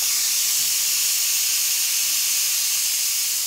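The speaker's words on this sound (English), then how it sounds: "the screen itself is showing that it's releasing the steam" Steam hisses steadily and loudly out of a Sage Fast Slow Pro pressure cooker as it releases pressure, a continuous high rushing with no voices.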